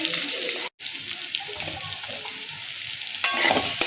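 Mango pieces dusted with roasted garam masala fry and get stirred in a pan, giving a steady hissing sizzle with scraping strokes. A brief gap breaks it early, and it swells louder near the end.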